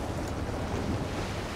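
Water rushes steadily past a submarine's conning tower in Silent Hunter 3, a dense, even wash of surf and wind noise, fairly loud and constant with no talking.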